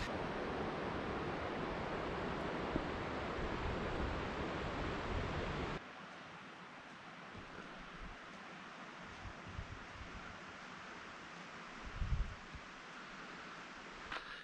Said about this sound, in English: The river that we're looking at here is the White Chuck River